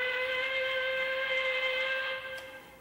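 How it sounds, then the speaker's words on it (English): A toy whistle from a children's museum scene gives a steady, shrill, tonal blast lasting nearly three seconds, loud and close, then tapering slightly at the end. "Well, the whistle works, but not very good."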